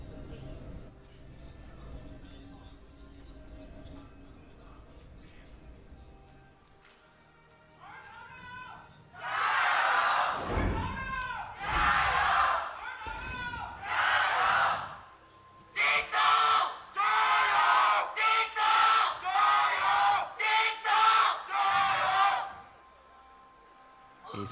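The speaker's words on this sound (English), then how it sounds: "That's going to be the last cheer we get from Jindong" Esports arena crowd at an LPL Spring 2018 League of Legends match between Rogue Warriors and JD Gaming, cheering for JD Gaming in loud rising bursts that swell and fade repeatedly over quieter background noise, with commentators talking.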